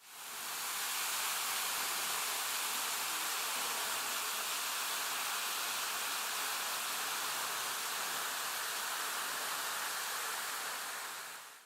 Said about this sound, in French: Impressionnante la hauteur de la cascade de Risco.